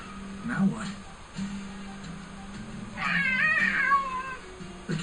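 A cat meows in the video game Tales of Xillia 2 with a short plaintive mew amid game dialogue, ambient hum and a bright chiming effect.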